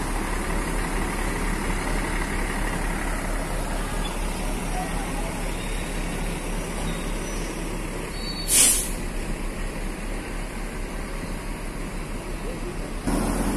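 Gunung Mulia bus departs the Tingkir terminal in Salatiga, its diesel engine rumbling steadily nearby with a short hiss of air brake partway through, amid terminal background noise.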